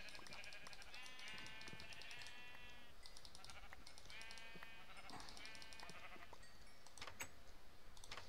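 Sheep in a Minecraft-style block video game bleat repeatedly, several overlapping wavering calls over steady background noise, with a few soft clicks near the end.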